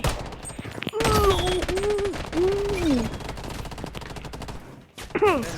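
Rapid gunfire rattles through a Blood Strike match in sustained bursts, with loud pitched whoops and yells from players layered over the shooting.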